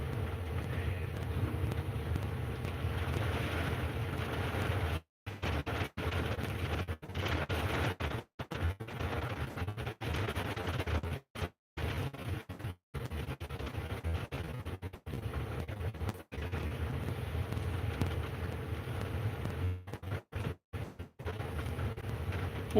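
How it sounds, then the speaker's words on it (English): Strong wind gusting outdoors, a steady loud roar with buffeting and brief dropouts, something flapping in the wind, no talk. "It is really, really blowing out there."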